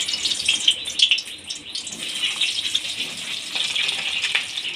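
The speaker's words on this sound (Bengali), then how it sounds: "এবার সেদ্ধ করে রাখা আলুগুলো আমি ভেজে নেব" Boiled potatoes fry in hot mustard oil, a continuous bright sizzle with crackling bursts, steady and close, no talking.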